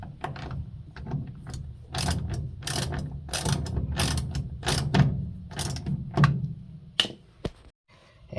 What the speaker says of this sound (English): I'm gonna go get my socket set. I wanna remove the drain pump.